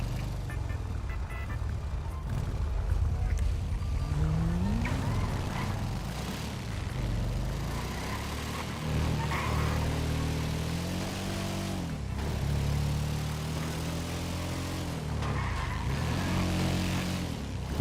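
Motorbikes in GTA V roleplay race past with loud engine drones and rising, falling pitch sweeps, several passes in a row, over a continuous game soundscape.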